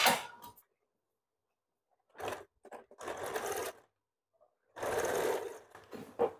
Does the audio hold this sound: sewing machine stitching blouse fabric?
yes